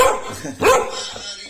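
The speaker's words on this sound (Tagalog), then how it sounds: "Ito mo aso. Napaka-agresibo." A single sharp, aggressive dog bark stands out against a noisy background, with some muffled activity around it.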